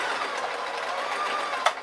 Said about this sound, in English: I'm going to sew as close to the edge as I dare